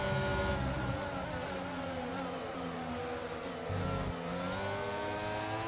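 Engines whine loudly and continuously as F1 race cars close in and overtake in the F1 22 video game. Pitch climbs and falls as the cars pass close by.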